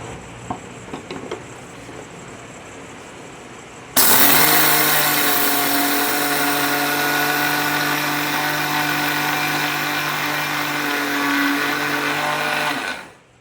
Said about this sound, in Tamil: இந்த மாதிரி இப்படி நைஸாக அரைச்சி நம்ம ஜெலிச்சு எடுத்துக்கலாம்